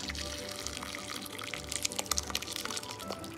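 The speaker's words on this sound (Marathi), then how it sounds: "मी मोठ्या तांब्या भरून त्याच्यात ओतलेलं आहे गार पाणी" Cold water pours steadily in a continuous splashing stream through a cloth-lined strainer holding fresh paneer, with trickling and dripping bursts growing louder toward the end.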